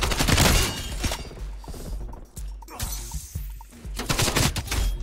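AK-74U submachine gun fire in Black Ops Cold War: dense, loud bursts of rapid automatic shots, with a lull and scattered shots in the middle before heavy fire resumes.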